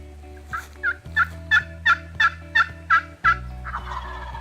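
Wild turkey gobbling over and over, about eight sharp rhythmic gobbles in quick succession, moderately close, with a steady low hum beneath, answering hunters' calls near a chain link fence on a property boundary.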